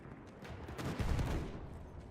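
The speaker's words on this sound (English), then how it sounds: "See the mortars now coming in for the attack" Mortar fire in a competitive multiplayer shooter match, a low rumbling burst of explosions swelling to a heavy boom mid-way and fading, heard at a distance.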